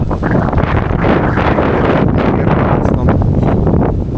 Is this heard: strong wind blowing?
yes